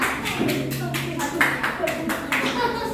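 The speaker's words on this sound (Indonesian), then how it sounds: "Beri tepuk tangan buat kelompok 3" A classroom of students claps for a student group, a quick series of distinct, fairly close claps in an uneven rhythm over faint room noise.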